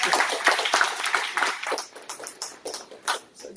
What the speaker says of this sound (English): the person who's really deserving of applause is Ed, who put together tonight's event